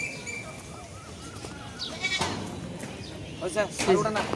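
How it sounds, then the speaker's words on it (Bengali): A goat bleats a few times, with the calls growing louder toward the end, amid people talking nearby. "ছাগল যে ডাকতেছে বারবার"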